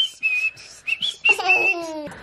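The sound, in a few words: whistling imitating a bird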